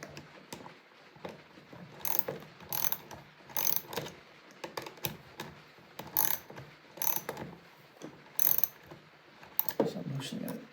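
Ratcheting clicks and gear-like mechanical bursts come from tightening a Coyote dome fiber splice closure, in repeated short runs with brief pauses, fairly close and moderately loud, with no talk.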